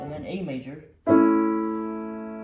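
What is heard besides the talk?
None of the usual background noises is heard.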